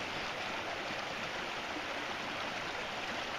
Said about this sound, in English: Nice looking creek.